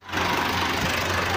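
A tractor with a trolley idling on a weighbridge during wheat sale, a steady low rumbling engine with a faint knocking pulse, close and continuous.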